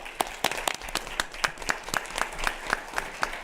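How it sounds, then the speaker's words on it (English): Sparse, evenly spaced claps ring out from a small audience at a student convention panel welcoming a speaker, a thin, rhythmic patter at moderate volume. "with a warm round of applause"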